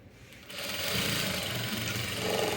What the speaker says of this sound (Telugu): ఇలాగా షోల్డర్కి తిన్నగా కుట్టు వేసేసుకోవాలి